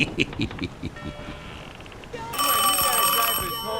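A telephone rings in a Cheech and Chong comedy recording, a bright sustained bell that cuts in midway after muffled voices and background sound, loud and continuing to the end.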